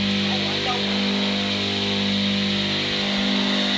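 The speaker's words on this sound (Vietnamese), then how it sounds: "Đây, máy băm cỏ chạy ở động cơ điện." An electric grass chopper for cutting elephant grass and banana stalks runs with a steady, loud mechanical drone and whine, constant throughout, with a voice speaking over it.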